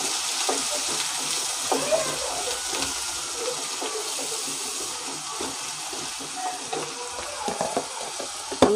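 Ginger-garlic paste fries in a pan for an egg recipe, giving a continuous close sizzle and crackle with occasional scrapes and clicks throughout.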